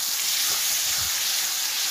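Cut pieces of bam eel hit hot oil in a pan for a bhuna curry, giving a loud, steady, close sizzle and hiss throughout, with no talk.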